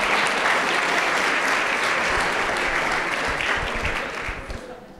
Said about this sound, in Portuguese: Vamos dar uma salva de palmas a Jesus pela tua paciência.